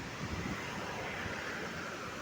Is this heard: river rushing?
yes